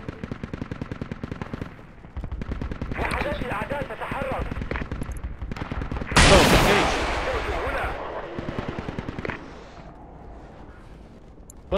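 Rapid machine-gun bursts rattle in dense strings during a military shooter game firefight around a Humvee, with a heavier blast-like burst midway and voices talking over parts of it.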